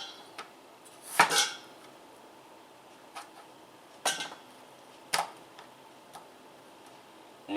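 A cleaver chops vegetables such as potatoes for beef and vegetable soup on a board in a quiet kitchen, with sharp, sparse knocks at irregular intervals and one heavier double chop near the start.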